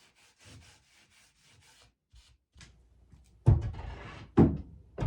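Hand saw cutting a wooden windowsill board: a run of quiet, rhythmic rasping strokes, then a pause, followed by two louder, sharper bursts of sawing close by.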